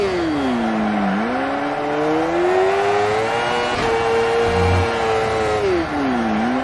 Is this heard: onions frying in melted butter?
no